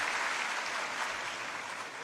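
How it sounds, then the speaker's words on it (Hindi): An audience at a Hindi academy's golden jubilee ceremony applauds to welcome the guests, a soft, fairly distant wash of clapping that fades slightly at the end. "मैं चाहूंगी एक बार जोरदार तालियां बजाकर हमारे सभी अतिथियों का"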